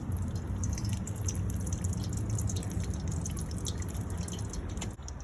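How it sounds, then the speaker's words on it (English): Hot golden oil sizzles and spatters around battered chayote squash stuffed with cheese as it fries, a steady close crackle and hiss that runs unbroken with no talking. "Splashing some of that golden oil."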